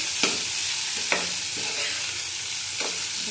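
Capsicum frying in a pan with a steady sizzle, broken by three sharp scrapes as a spatula stirs it. Close and alone, with no talk.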